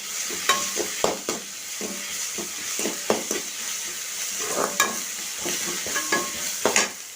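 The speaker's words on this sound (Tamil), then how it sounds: "வெங்காயம் வந்து கண்ணாடி பதத்துக்கு வந்து மாறுதா போதும்" Onions sautéing in a pan under a soft continuous sizzle, with a spatula scraping and stirring in quick, irregular strokes close to the listener, no voices.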